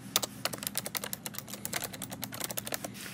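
Rapid, uneven clicking of fingers typing on a computer keyboard, the keystrokes close and crisp over a low steady hum, with no voices.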